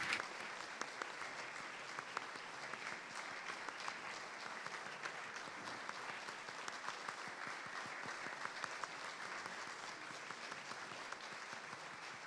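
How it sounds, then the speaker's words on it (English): Sustained applause fills a hall at the Global Appeal 2015 launch ceremony as Prime Minister Abe leaves, an even, continuous roll of many hands clapping for over twelve seconds, slightly distant. "Please give a big applause as he leaves the room."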